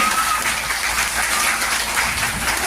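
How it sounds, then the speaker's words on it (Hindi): At a satsang gathering, a crowd of women applauds loudly and steadily, with a dense, even wash of many hands clapping together throughout and no break. "सभी पत्नियां अपने लिए ताली बजाइए एक बार जोर से"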